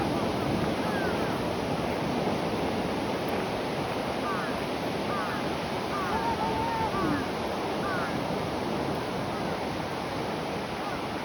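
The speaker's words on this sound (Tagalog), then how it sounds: "May malaki yung alon" Sea waves rolling and breaking on a beach in Japan, a steady broad wash of surf with wind buffeting the microphone throughout, faint voices in the background.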